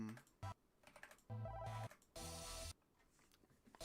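Typing on a computer keyboard, close and quiet, with scattered single key clicks and a few short dense bursts of rapid keystrokes separated by pauses.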